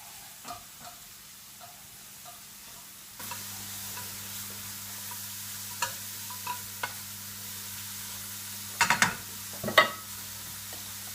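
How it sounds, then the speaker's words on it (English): A steady, soft sizzle of leeks frying in a pan, with occasional clicks and scrapes as a utensil stirs them. "Get that all incorporated into the mix, all frying off together."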